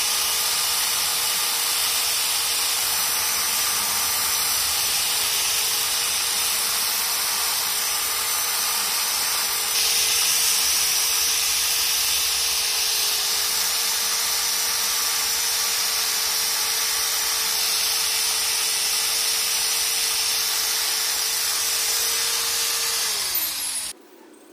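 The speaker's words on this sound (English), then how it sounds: "First, use a belt sander with 1:0 grit sandpaper for rough sanding." A belt sander with coarse grit sandpaper rough-sands the copper layer on a chrome roller, giving a loud, steady, continuous grinding whine that runs alone without a break for over twenty seconds and then cuts off abruptly at the end.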